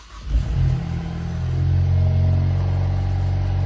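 A Ford EcoBoost engine cold-starts with a quick crank and catches, then settles into a loud, steady idle with a slightly uneven, wavering rumble.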